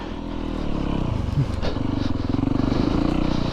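A Yamaha YZ450FX dirt bike on a trail ride, its 450 engine thumping loudly and steadily close to the microphone, revving up once with a brief clatter before settling into a rapid, pulsing idle-to-cruise drone.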